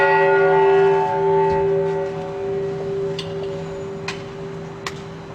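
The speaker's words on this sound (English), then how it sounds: "the ringing of the bell, the peace bell" The UN peace bell rings with a sustained metallic tone that decays slowly over several seconds, with a few soft clicks and knocks in the background.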